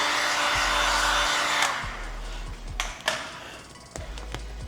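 A heat gun warming vinyl inlay film on a front bumper, a loud steady blowing hiss that fades after a couple of seconds, followed by scattered light taps and clicks.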